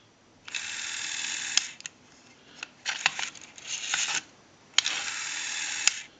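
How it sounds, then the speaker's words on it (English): Rotary dial on a Northern Electric three-slot payphone being dialed: three separate whirring, clicking bursts as the dial winds and spins back, with sharp clicks at the ends, fairly quiet in a quiet room. "I want to go ahead and try to dial here."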